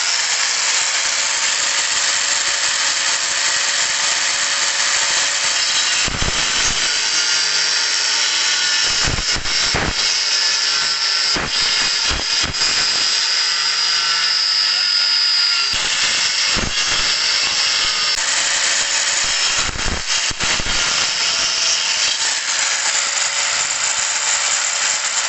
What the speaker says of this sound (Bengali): দোস্ত প্রথমবার গ্রাইন্ডিং মেশিন চালালাম